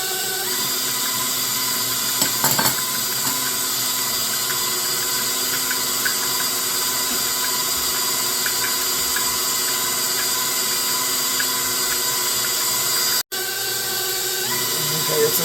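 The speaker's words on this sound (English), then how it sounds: "we're just going to whisk this together till it's nice and smooth" Electric hand mixer whisking room-temperature butter and a teaspoon of vanilla for a king cake, a steady close whir running throughout with a brief clatter early on and a short cut near the end.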